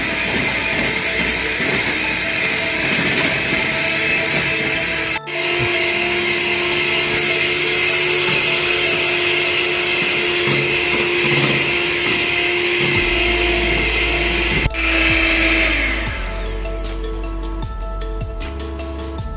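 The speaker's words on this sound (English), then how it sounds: "So I'll add a little bit first and then start beating it again." An electric mixer whips egg whites with sugar for a Japanese cheesecake, a loud, steady whirring drone that runs continuously and shifts slightly in pitch near the end.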